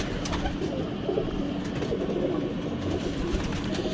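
Pigeons cooing inside a loft coop, a steady layered murmur of soft coos from many birds close by, with a constant low background hum throughout.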